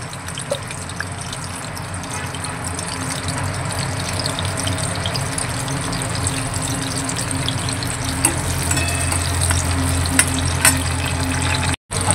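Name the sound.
green chillies frying in hot oil for sabudana khichdi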